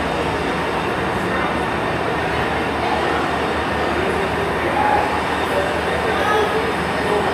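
A train departs Shrewsbury station with a continuous loud rumble and hum of the engine and wheels, up close and steady throughout, with a few faint higher squeals.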